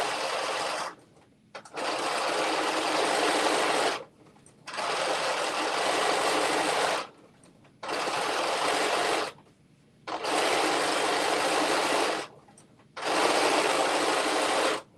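A sewing machine edge stitches a single fold in fabric, running in five steady, close, loud whirring bursts of a few seconds each, separated by brief pauses.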